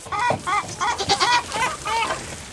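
Several goats bleat in quick succession, wavering nasal cries overlapping close by against faint background noise.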